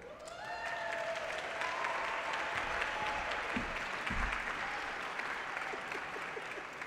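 Audience at the Resilient by Design awards applauding steadily, a dense wash of clapping with some cheering that holds loud throughout without fading.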